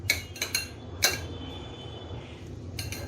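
A spoon clinking against a bowl while squeezed lime juice is mixed in for dadpe pohe, a few close metallic taps early on, then a quiet stretch and another brief clink at the end.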